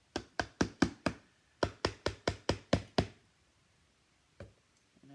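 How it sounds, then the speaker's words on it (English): A small hammer drives silk greenery stems into floral foam in a floral container, with two quick runs of six sharp, evenly spaced taps, then a single tap and a faint knock after a pause, close and fairly loud. "hammer and hammer it down."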